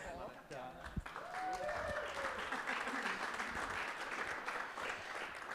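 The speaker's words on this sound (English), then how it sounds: "let's have a round of applause for all our winners and panelists tonight" An audience applauds at an awards show, a broad wash of clapping that holds steady throughout while voices talk over it.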